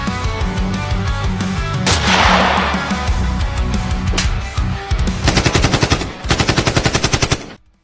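Rapid bursts of toy-like gunfire, loud and close, with a whooshing blast midway and fast staccato volleys toward the end.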